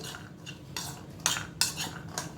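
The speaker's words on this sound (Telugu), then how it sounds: "ఇదంతా ఒకసారి కలుపుకుందామండి" Chaat of boiled chickpeas being mixed with salt and lemon juice, a spoon clinking and scraping against a bowl in a few sharp taps and soft rubs, close and quiet.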